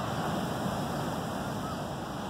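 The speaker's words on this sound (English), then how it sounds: "here comes the waves" Storm surf rolling in at Pokai Bay, a continuous broadband wash of ocean waves heard close and moderately loud, with wind rush and no clear talking.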